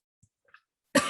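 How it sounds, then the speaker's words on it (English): A single loud, close cough bursts out at the end after a near-silent stretch with a few faint small sounds. "Before I have a coughing attack."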